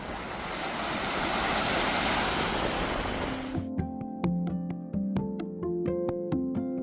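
Ocean waves wash onto the shore at Hanauma Bay on Oahu, a dense, steady surf roar lasting a few seconds before it cuts off abruptly and gives way to plucked music.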